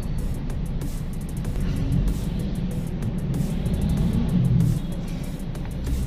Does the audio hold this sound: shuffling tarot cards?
no